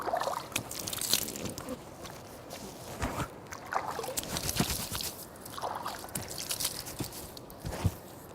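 Water splashing and sloshing in repeated handfuls as a face is washed three times during wudu ablution, close and moderately loud with irregular wet slaps and trickles, no talking.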